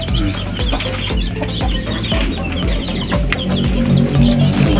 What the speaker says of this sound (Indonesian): Ini indukan ayam merawang.